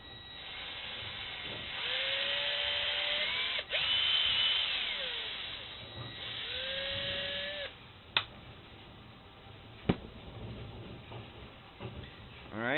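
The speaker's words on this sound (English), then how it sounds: "We're gonna go ahead and drill straight through so I can actually put the link through" A power drill fitted with an 11/64 bit bores through an arm to follow an existing hole, its motor whining in two sustained runs that speed up and slow down, followed by a few sharp clicks and knocks.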